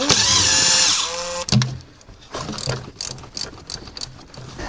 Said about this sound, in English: So I'll get the valve cover off and do that.